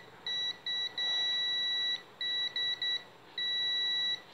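Multimeter continuity beeps from testing a lightning-damaged CRT television: a series of sharp, steady electronic tones in short and longer bursts, starting and stopping irregularly as the probes touch, clear and close.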